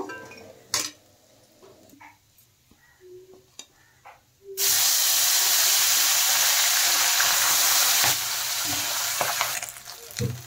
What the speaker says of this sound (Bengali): এইভাবে আমি সবকটা মাছ ভেজে নেব।